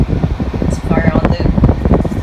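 A Haier 5,000 BTU window air conditioner, model HWR05XCK-L, rumbles steadily as its compressor starts up, a loud low fan-like drone with a brief rising tone partway through.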